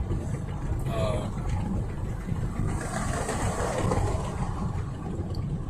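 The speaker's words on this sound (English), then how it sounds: "I hate how noisy it is in the car with the windows partially down." Steady road and wind rumble fills a car interior with the windows partially down, a continuous loud low roar with no breaks.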